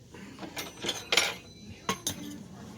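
A knife and fork cut into baked chicken with a crispy top, producing several sharp metallic scrapes and clinks against a plate, close up in a quiet room.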